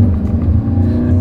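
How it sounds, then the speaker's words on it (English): A 2024 Toyota Venza hybrid in sport mode accelerates hard as the gas engine kicks in, giving a steady, loud low rumble and engine drone from inside the cabin throughout the short stretch. "It switched from that electric mode to the gas mode real quick when you really hit the gas."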